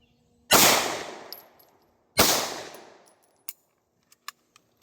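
Two loud, close Hi-Point C9 pistol shots about a second and a half apart, each with a long ringing decay, then a few faint metallic clinks.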